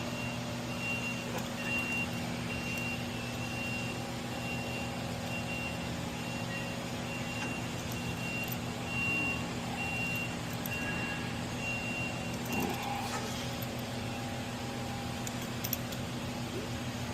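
A delivery truck's reversing alarm beeps faintly and intermittently in the distance, nearly buried under a steady, loud roar of a dyno fan running in a workshop.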